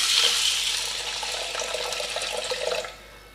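Water from a tap splashing into a pressure cooker holding matar dal, a steady bright hiss of pouring for about three seconds, then it cuts off.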